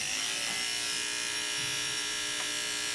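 Electric clippers used to shave a head buzz with a continuous, steady, close hum for the whole stretch, with no voices.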